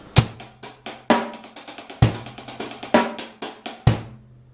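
Fast double strokes on a drum hi-hat, played as repeated bursts of quick shimmering ticks with heavier accented hits roughly every second, some landing with a low drum thump, close and clear with no talking.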